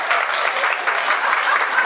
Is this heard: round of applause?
yes